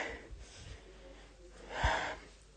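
Heavy, breathy panting from an out-of-breath cartoon character, a few ragged gasps rising to a stronger huff near the end, close and fairly quiet.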